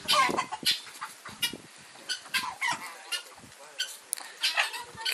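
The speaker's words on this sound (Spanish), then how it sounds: "Grabando la gallina aquí." Chickens cluck outdoors at Arroyo del Toro, with a hen nearby, in a steady run of short bursts that are fairly close and lively, with a little background chatter.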